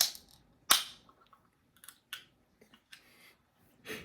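A sharp crack and pop of a drink container being opened, followed by scattered small clicks and rustles, close and otherwise quiet.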